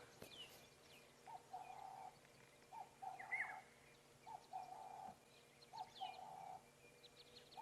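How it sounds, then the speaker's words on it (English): A black-headed oriole calls repeatedly from a distance on a safari drive, giving short liquid, fluty phrases in a loose rhythm over faint bush ambience. "You can hear that liquid chortle of the black-headed oriole."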